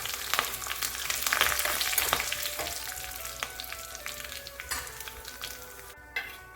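Curry leaves sizzle in hot oil in a pan for a jackfruit seed, drumstick and mango curry, a loud, close, continuous crackling fry with sharp pops and some stirring scrapes.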